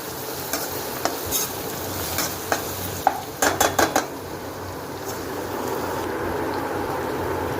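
Onions fry with homemade masala in a pan for a spicy crab curry, a soft steady sizzle broken by sharp scraping and clinking stirs, close and alone.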